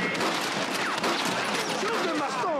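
Rapid gunfire crackles through a Red Dead Redemption battle in Mexico, a loud, dense fusillade of overlapping shots that keeps going with barely a gap, set against faint whistling game effects.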